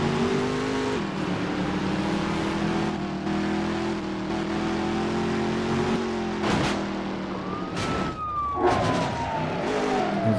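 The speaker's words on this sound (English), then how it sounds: "There's a fire truck." A fire truck siren wails in the Midnight Club 3 DUB Edition Remix racing game, a rising and falling tone over steady engine drone, with a sharp swept siren pass near the end of the stretch.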